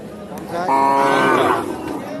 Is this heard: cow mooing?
yes